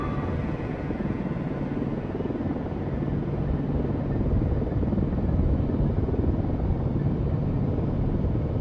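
An SH-60 helicopter flies at night in the naval game Cold Waters, giving a constant loud rotor and engine drone with no talk over it.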